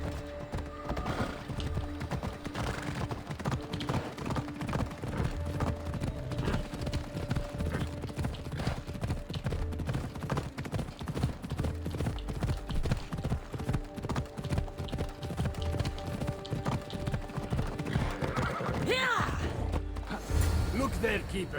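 Horse galloping in Assassin's Creed Odyssey, a rapid continuous clip-clop of hooves running throughout, with a whinny near the end and a voice speaking over it.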